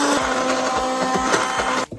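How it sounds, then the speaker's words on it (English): An immersion blender whirs through refried beans, a steady loud motor drone with a rhythmic chopping pulse as the blade works the mash, then cuts off abruptly at the end. "now I think we can blend it with an immersion blender."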